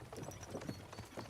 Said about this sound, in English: don't you think maybe we could make the horses go a little faster?